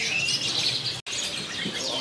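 Canaries chirp continuously at a kiosk in a bird market, a dense, close chorus of high tweets and trills with a momentary break in the middle.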